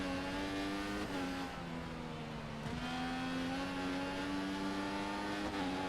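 A Williams Formula One car in the racing video game F1 2014 drones steadily at high engine pitch, shifting tone a couple of times as it passes, faint and continuous with no voices.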